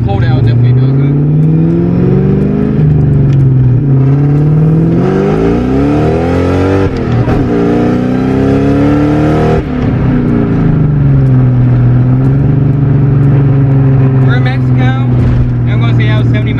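A Mustang GT revving hard through a fourth-gear pull, engine note rising and falling in long sweeps, loud and close from inside the car, with speech over the engine.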